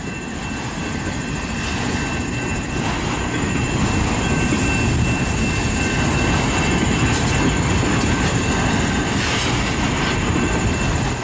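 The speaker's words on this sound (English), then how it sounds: "auto rack train I have caught this week." A CN auto rack freight train rolls past close by, eastbound in Battle Creek, Michigan, a loud, steady rumble of wheels with faint metallic squealing running throughout.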